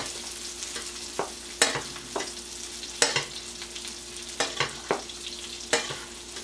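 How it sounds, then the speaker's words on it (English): Salmon fries in a hot pan with butter, a steady sizzle broken by sharp intermittent spoon clinks and splashes as the fish is basted, close up and with no talking. "And we continue to baste."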